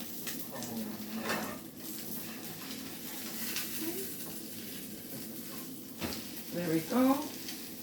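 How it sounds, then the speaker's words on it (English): Metal spatula scraping and lifting an omelet in a sizzling frying pan, steady fry hiss with several clinks and scrapes, brief speech near the end. "Let me try my metal spatula."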